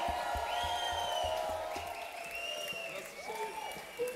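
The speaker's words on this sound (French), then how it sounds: "On peut encore applaudir nos amis ukrainiens, là, s'il vous plaît." Audience applause at an international accordion orchestra concert at a folk venue, a steady broad wash of clapping throughout, with sustained instrument tones and voices heard over it.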